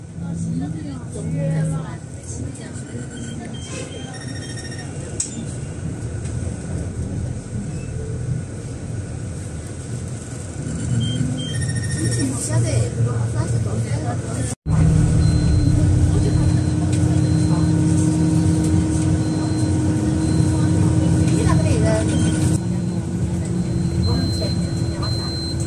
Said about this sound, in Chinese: 大巴车正与对面的世纪游轮并驾齐驱。